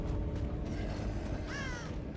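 A crow disturbed in a Dead by Daylight match gives a short, fairly faint caw late on, over a low rumbling ambient bed and a few creaky mechanical sounds, with no talking.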